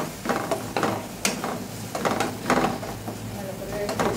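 Thick coconut paste is stirred and sautéed in a pan for a shrimp malai curry, giving soft sizzling under repeated scraping and clinking strokes of a spoon against the pan, close by.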